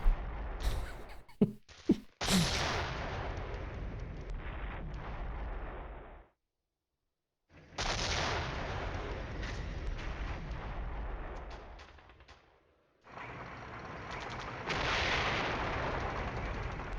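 Artillery bombardment in the Flashpoint Campaigns: Southern Storm wargame, shelling the town of Ammerschwihr near Colmar: a few sharp blasts open, then long rumbling barrages roll on with brief silent gaps between them, with no talk.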